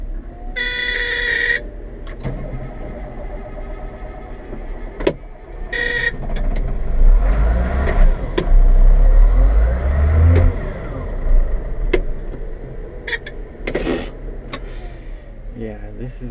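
An old heavy haul truck engine turns over after the key and rumbles up into a deep, swelling rev before settling, heard close, with a few sharp clicks and beeps and someone talking at times.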